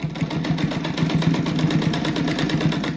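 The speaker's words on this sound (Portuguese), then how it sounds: "Agora eu costuro bem em cima dessa costura que eu já fiz aqui nos quadrados" A sewing machine stitches over an existing seam on a small-scrap patchwork rug, running in a fast, even mechanical rhythm of repeated needle strokes, close and steady from start to finish.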